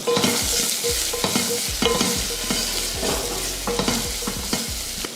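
Dried red chillies, curry leaves, asafoetida and turmeric sauté in hot oil for rasam, giving a close, continuous sizzle with frequent scraping and clinking from a stirring spoon in the pan.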